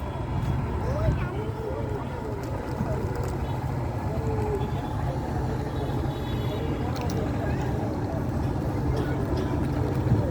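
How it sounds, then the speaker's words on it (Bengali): A fishing trawler's engine drones past on a river, a steady low mechanical rumble that holds evenly through the whole stretch beneath faint background voices. "ওই একটা ট্রলার যায়"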